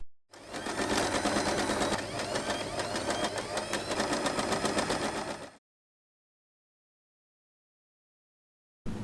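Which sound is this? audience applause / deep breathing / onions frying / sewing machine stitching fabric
sewing machine stitching fabric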